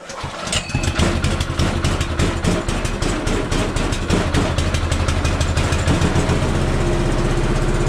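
A cold go-kart engine being started and revved during a rebuild, a loud close buzzing rattle with rapid firing pulses that steadies into a running drone, no talk.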